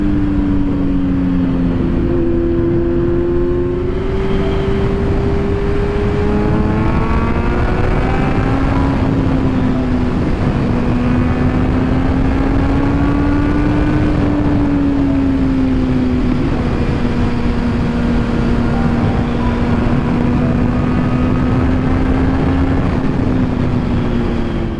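A 2022 Kawasaki Z900 motorcycle engine droning steadily while riding, its pitch rising and falling through gear changes over a constant rush of road and wind noise, heard close and loud.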